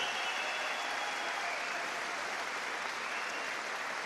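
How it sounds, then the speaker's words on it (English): A crowd at a boxing event applauds two boxers after an eight-round contest, a faint, even spread of clapping that sounds distant and continues unbroken for about four seconds. "a round of applause for two boxers who gave their all"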